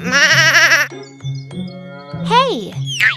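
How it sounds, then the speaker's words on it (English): A goat bleats repeatedly in loud, wavering cries, with electronic jingle-like tones between the calls, as part of a children's farm-animal sound lesson. "Goat."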